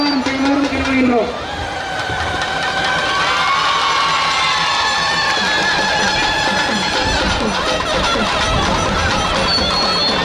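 A crowd at a Mariamman temple fire-walking festival in Thiruppalaikudi, Ramanathapuram, cheers in a loud, sustained roar that fills the whole stretch, with a voice briefly heard at the start.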